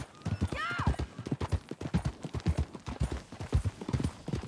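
Rapid, rhythmic clip-clop of horse hooves trotting steadily in Red Dead Redemption 2, close and clear, with a short whinny near the start.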